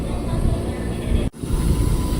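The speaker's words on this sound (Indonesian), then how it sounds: "Nah, itu Erlangga udah masuk ke jalur 3 stasiun Cikarang." Airlangga passenger train pulling into track 3 at Cikarang station, a loud continuous rumbling roar that drops out for an instant, then resumes.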